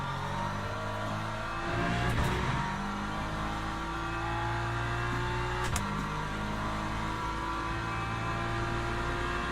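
LMP3 and LMP2 prototype race cars from the Le Mans Ultimate sim pass by in a multiclass race, their engines whining and shifting pitch over a constant loud drone of the player's own car, with two sharp whooshes as they go past.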